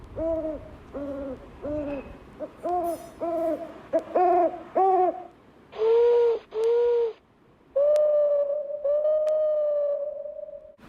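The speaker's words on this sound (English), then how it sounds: "The sound of an owl is" A series of hoots, some short and paired, others long and drawn out, repeat clearly and close, with brief pauses between.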